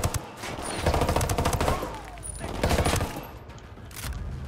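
Bursts of rapid automatic gunfire from an HK rifle in the Ghost Recon and Rainbow Six Siege crossover game, loud and close, coming in several sustained volleys separated by short pauses.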